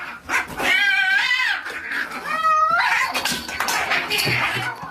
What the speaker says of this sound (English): the real sounds cats make when they're fighting